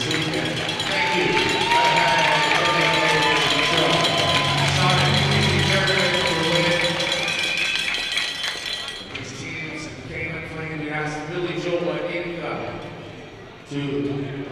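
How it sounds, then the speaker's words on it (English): Crowd at a hockey tournament final applauding and cheering for all the teams, a loud sustained roar of clapping and shouts over about nine seconds, then fading and thinning under a speaking voice on the public address. "A big round of applause for all 16 teams that played here this weekend."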